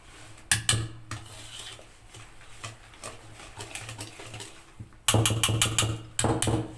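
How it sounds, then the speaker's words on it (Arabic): Basbousa batter is stirred in a bowl by hand with a utensil. Sharp clinks and scrapes of metal on the bowl come in bursts, with a softer, steady mixing stretch between them. "تبدأ بقى تخلطي كله كده"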